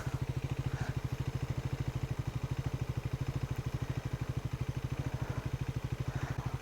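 A Triumph Scrambler 400X motorcycle engine runs with a steady, rapid low thumping pulse throughout, close and continuous, with no talk over it.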